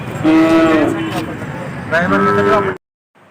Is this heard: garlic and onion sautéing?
no